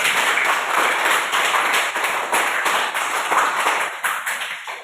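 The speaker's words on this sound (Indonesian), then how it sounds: "Kita tepuk tangan untuk si Wida" A classroom of students clapping for a classmate, fairly loud rhythmic group clapping with a regular beat that holds steady throughout, and no talk over it.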